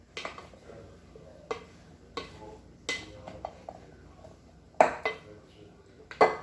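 Flour being mixed into a bowl full of sliced zucchini and squash, with irregular clinks and scrapes of a utensil against the bowl and a few louder knocks, close and fairly quiet.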